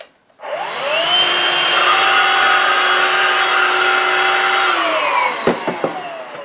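A Vax Air Cordless Duo upright vacuum cleaner powers up and runs with a loud, steady whine and airy suction roar, then winds down with a few sharp knocks and clatters near the end.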